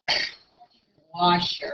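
A single sneeze bursts out at the start, loud and close, followed after a short pause by a person speaking in a classroom setting.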